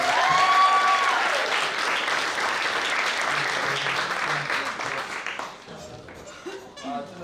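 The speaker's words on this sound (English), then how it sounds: "Let's have an applause here." A wedding audience applauding during the speeches, loud sustained clapping that fades out as voices take over and talk continues.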